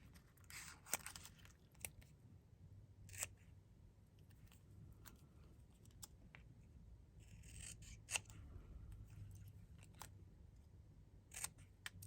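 Small scissors snip through paper while cutting out a decorative word, giving a series of brief, crisp, close snips spaced a second or two apart over a quiet background with faint low hum.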